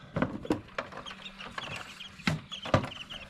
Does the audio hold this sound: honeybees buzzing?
no